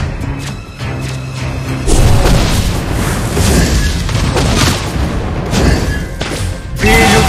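Repeated loud booms and blasts in Mobile Legends: Bang Bang gameplay, thick layered impacts that surge at intervals across a busy, steady wash of battle effects.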